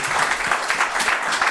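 An audience at a church gathering applauding, dense close clapping that runs steadily and loudly throughout with a faint crowd murmur beneath.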